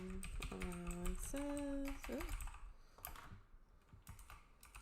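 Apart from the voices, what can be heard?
typing on a computer keyboard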